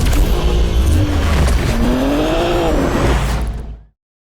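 A Porsche Cayman GT4 on the road, its engine loud and close as the revs climb and sweep through two rising pulls under road noise before cutting off abruptly.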